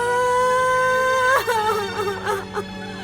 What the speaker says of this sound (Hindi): रोने की आवाज आ रही है किसी की।